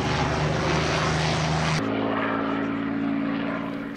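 A North American Mustang fighter with a Packard-built Merlin V12 engine drones past with a loud, rich propeller and engine roar that shifts in pitch midway and slowly fades.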